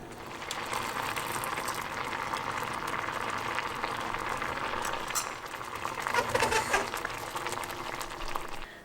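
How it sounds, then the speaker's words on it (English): Dates and tamarind simmer in a pot for chutney, giving a steady, soft bubbling hiss that holds evenly throughout, with a slightly busier burst of bubbling near the end and no talking. "I'm just going to let this simmer for about 15 to 20 minutes, just until my tamarind and the dates are softened up"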